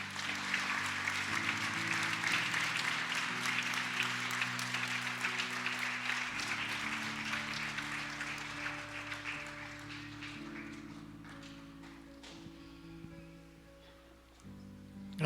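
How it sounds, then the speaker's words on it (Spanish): A church congregation claps steadily through a Spanish-language service, dense applause that holds for most of the stretch with organ or keyboard chords sustained underneath, then tapers off near the end. "Podemos darle una ofrenda de aplauso al Señor."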